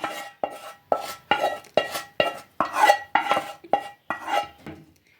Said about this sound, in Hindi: मूंग की दाल में अब चाशनी को मिक्स कर दीजिए